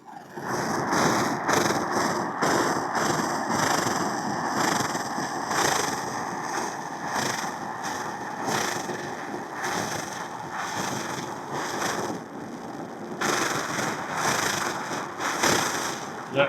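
A Svea 123R camping stove fitted with a silent damper burns at full blast: a continuous close-miked roar with a slight rhythmic pulsing running through it.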